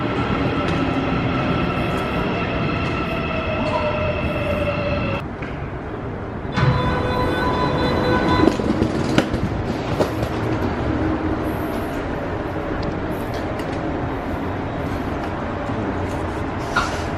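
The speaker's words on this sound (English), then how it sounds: "they also announce it as well, that saying that the next train to Incheon Airport is here" Airport rail train pulls into a station on the line to Incheon Airport in Seoul, a loud rumbling roar with tonal motor whine that cuts out, returns, then fades into rushing rail noise and clatter.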